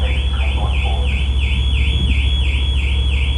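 A car alarm wails on a ferry's car deck, a loud, close, rapidly warbling siren that repeats in a steady rhythm over a low rumble of the ship's engines.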